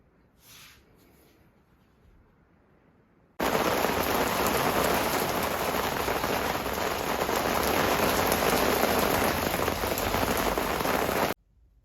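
After a few seconds of quiet, rain suddenly starts pouring onto a surface nearby, a dense, loud, even hiss of drops that continues steadily, then stops abruptly near the end.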